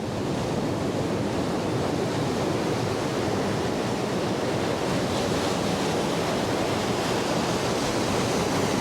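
Steady roar of ocean surf crashing continuously, loud and close, with wind rushing across the microphone and no voices.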